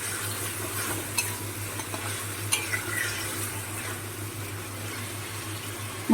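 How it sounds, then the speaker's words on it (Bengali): Constant close sizzle from a frying pan as corn is fried, with occasional spoon scrapes and light clinks as it is stirred; no voices. "ভুট্টাটাকে ভালো করে একটু ভাজা ভাজা করে নিই"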